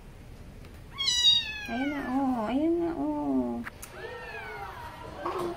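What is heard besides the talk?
black kitten meowing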